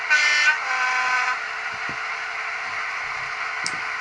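A loud two-tone horn blast from a Bachmann Class 55 model diesel locomotive sound decoder sounds briefly up close, then fades into a steady hum with a few small clicks and knocks.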